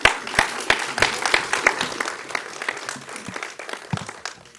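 A seated audience at a Mexican congressional open-parliament forum on the 2020 federal budget gives warm applause to welcome an incoming speaker, a steady spread of many hands clapping with a few sharper nearby claps standing out.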